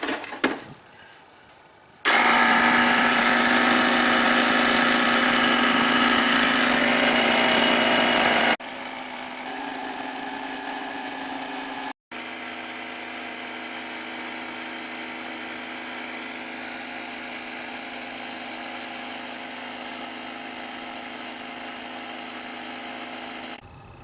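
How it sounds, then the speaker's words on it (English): Air compressor of a 5-in-1 portable jump pack running with a continuous loud buzzing mechanical drone that shifts pitch and intensity in several stages and carries on steadily with no speech. "Compressor. Here we go."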